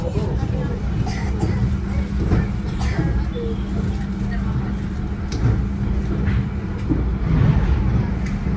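A steady low rumble of an economy-class passenger train running fast between Yogyakarta and Jakarta, heard from inside with constant rolling noise and faint rattles.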